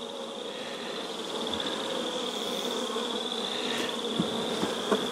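A dense, steady hum of many honeybees fills the air as brood frames are lifted from an open hive on a cool spring day, loud and close with no one speaking.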